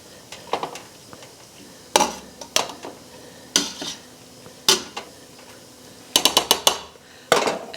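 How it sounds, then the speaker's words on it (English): Metal spoon clinks and scrapes against a pot while beef stew slurry is stirred in, a series of sharp, close knocks spaced irregularly, including a quick cluster of rapid taps, with no talking. "Okay, I'm going to just stir this in."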